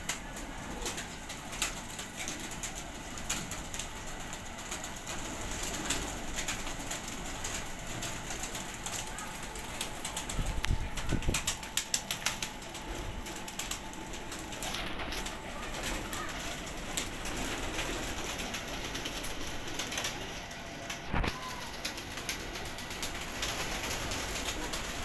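Breeder pigeons, including a proven female, coo repeatedly through a loft, with soft wing flaps and a steady rustling background; someone speaks briefly at times.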